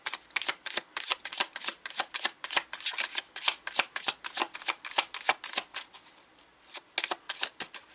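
Tarot de Marseille cards are riffle-shuffled close up, a quick, steady stream of crisp papery flutters and snaps repeating in bursts, with no talking.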